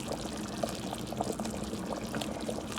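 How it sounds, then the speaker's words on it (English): Dumplings are dropped into a pot of simmering Haitian salmon fish head bouyon, giving a steady close bubbling and liquid churn with small splashes throughout, with no talk. "Now, I'm gonna go ahead and add in my dumplings."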